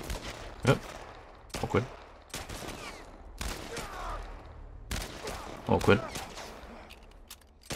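Gunfire in The Last of Us Part I video game, several sharp shots in separate bursts over a steady background, with people talking over the action.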